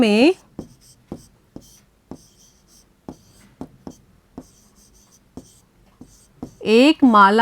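Chalk or marker taps and short strokes on a board during a Class 3 maths lesson, coming in a quick irregular rhythm, close and clear, with a teacher talking just before and after.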